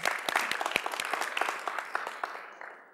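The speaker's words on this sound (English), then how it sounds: "A round of applause once more." Applause from a crowd, a steady patter of many hands clapping that thins out and fades toward the end.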